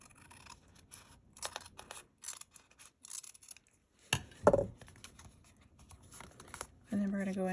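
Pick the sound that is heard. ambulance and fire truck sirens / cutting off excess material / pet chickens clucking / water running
cutting off excess material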